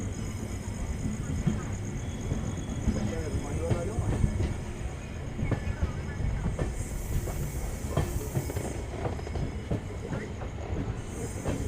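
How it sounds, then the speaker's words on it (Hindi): Ramnagar Dehradun Express rolling slowly into a platform at Dehradun, a steady rumble of wheels with soft clatter and faint squeal, close and continuous, with a voice talking over it at points. "अभी हमारी ट्रेन बहुत ही हल्की स्पीड से प्लेटफॉर्म पर जा रही है देहरादून में।"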